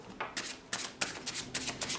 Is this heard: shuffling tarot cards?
yes